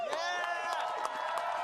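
A convention crowd in Atlanta cheers and whoops with many voices, a dense, sustained roar of shouts and high cries that stays loud throughout the short stretch.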